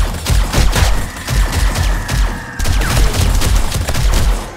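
Rapid gunfire in the 7 Days to Die video game, loud sustained bursts of automatic shots in quick rhythm with a brief break midway, heavy and close.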